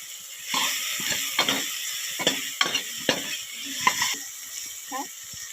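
Chopped tomato is stirred in hot oil for Khandeshi dal batti, a series of scraping, clattering strokes at an uneven pace, near and moderately loud over a light sizzle.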